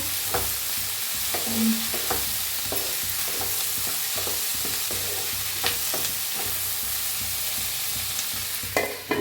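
Masala spices and onion-tomato base roasting in a pan with a little salt while paneer curry is made, a steady sizzle broken by repeated scraping stirs of a spoon across the pan throughout.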